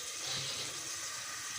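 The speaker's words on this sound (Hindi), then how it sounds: "और अब इतना ही इसमें पानी डालूँगी" Water pours steadily into a bowl of yogurt for Pakistani kadhi pakora, a continuous close splashing hiss that runs without a break for the whole short stretch, with no talk over it.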